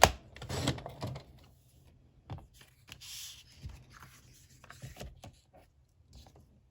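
Paper scraps being trimmed to size for a spring mini album, with a handful of short, soft cutting and sliding strokes spread across the clip, close and fairly quiet.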